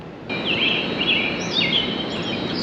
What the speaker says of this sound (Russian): Сколько птиц?